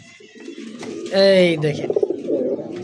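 A pair of pigeons, kept for sale, gives one clear, close coo in the middle. Someone talks quietly before and after it.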